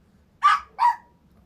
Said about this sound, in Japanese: めっちゃ吠える。